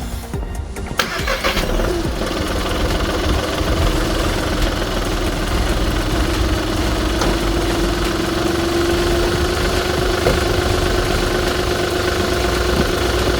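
A VW Polo 1.2 TDI diesel, just fitted with a new clutch, runs steadily as it pulls away, a continuous close engine hum with a faint rising tone and some handling clatter at the start.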